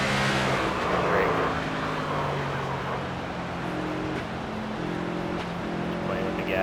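Simulated NASCAR race car engine at New Hampshire Motor Speedway, a steady droning roar with shifting pitch as the throttle is worked, loud and continuous throughout.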